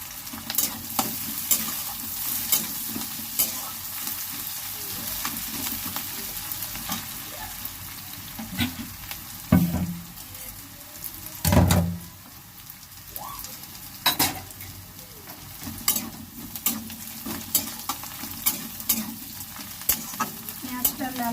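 Eggplant and onion fry in a pan for a Bengali dal and fried-eggplant dish, giving a steady sizzle throughout with intermittent stirring scrapes and a few louder clatters of the spatula near the middle.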